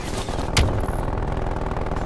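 An automated sentry gun fires in a shooter video game. There is one sharp, loud crack near the start, then dense, continuous gunfire and battle noise.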